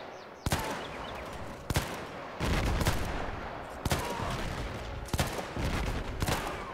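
Howitzers and gunfire boom in the Between Empires game, with sharp heavy blasts at irregular intervals over a continuous rumbling battle din.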